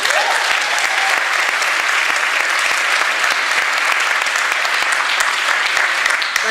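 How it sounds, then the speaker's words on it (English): An audience at a jazz camp performance applauds loudly and continuously, dense clapping filling the room at a steady level from start to end. "Great, a round of applause again."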